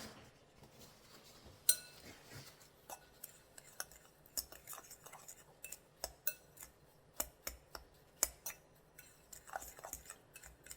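Ground nutmeg and spices being mixed together in a bowl, a quiet sequence of irregular clinks and taps of a utensil against the bowl with faint background noise.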